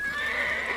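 A horse in the Assassin's Creed video game gives one short, clear neigh, a brief whinny with faint clip-clop, alone and without talk.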